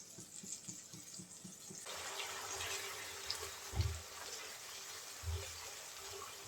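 Water pours into a pan of frying spices while cooking. After some quiet clinks and stirring, a steady splashing rush of liquid sets in and continues, with occasional bumps.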